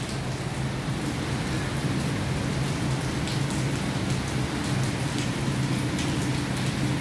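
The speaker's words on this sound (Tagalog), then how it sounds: "Too much rain." Heavy rain pours steadily during a storm in the UAE, a dense, continuous wash of drops hitting surfaces close by, loud and unbroken with no voices over it.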